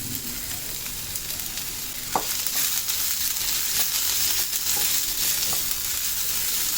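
Chopped onion and minced garlic frying in a pan, a loud close continuous sizzle with a few sharp scrapes and clicks of a spatula over it, no voices.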